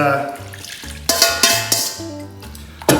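Wet and dry ingredients for flatbread dough being stirred in a bowl, with scraping and clinking of a utensil against the bowl in uneven bursts and several sharp knocks, close and fairly loud.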